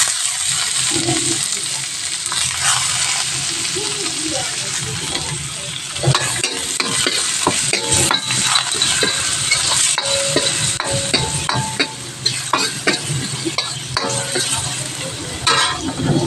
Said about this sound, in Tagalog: Ayan, nilagay ko na ang bawang. Gisa-gisa na.